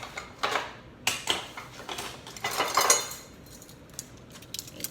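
A tablespoon of vanilla added to Jamaican cornmeal pudding batter, with a spoon clinking and knocking against the bowl in several close, irregular taps and scrapes.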